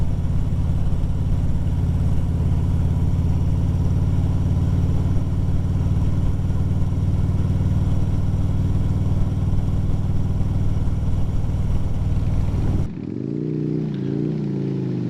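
A motorcycle cruises steadily along a road under a canopy of moss-hung trees in the South, its engine a loud constant drone up close that drops suddenly to a lower, quieter rumble near the end.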